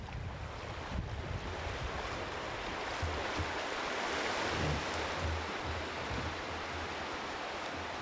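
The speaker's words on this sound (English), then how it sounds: "this is part of the rapid system, and as you can hear it, this is what you went to sleep by. You could just hear this water running" River rapids at a Canadian fishing camp pour in a continuous, even roar of running water with a low rumble underneath, steady and fairly loud with no voices.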